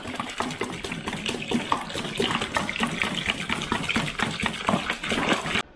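Water gushes steadily into a bucket while setting up a garden patio growing system, a continuous close splashing fill lasting several seconds with no pauses.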